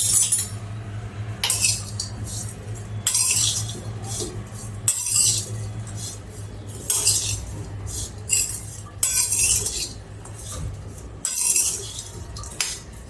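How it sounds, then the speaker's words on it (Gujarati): A spoon stirs a boiled peanut vegetable chaat in a bowl, clinking against the sides in repeated bursts, close and fairly loud. "હવે આપણે બધું મિક્સ કરી લઈશું."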